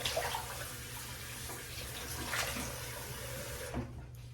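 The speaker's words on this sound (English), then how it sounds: "Let's go ahead and rinse the face off" Running water at a sink as a face is rinsed after a shave with a razor, a steady broad splashing wash with small irregular swells that eases off near the end, no voices.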